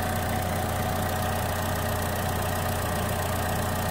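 A 2015 Chevrolet Trax with a freshly replaced 1.4-litre LUV engine idles steadily, a close, even low hum with a faint mechanical ticking that holds constant throughout, with no talking.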